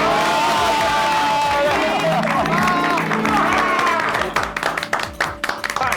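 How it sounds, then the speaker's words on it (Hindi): Audience in a Gokuldham Society comedy scene bursts into loud applause and cheering for the society's women, dense clapping mixed with crowd babble that thins into scattered claps near the end. "तो हमारा गोकुलधाम सोसाइटी की सभी महिलाओं के लिए जोरदार तालियां हो जाए"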